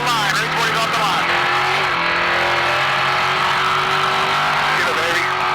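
Onboard FPV RC trophy truck launching off the start line at an off-road rally, a loud close motor whine rising with revs over gravel crunch, with voices shouting over it.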